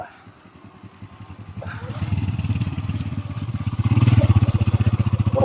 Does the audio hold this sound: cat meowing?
no